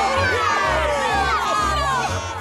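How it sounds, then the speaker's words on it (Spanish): Cartoon characters cheer together for their brave hero after a flood rescue, a loud, continuous crowd of excited, high voices shouting and whooping over a pulsing musical background. "uno y todos a la vez vitorearon a su valiente héroe"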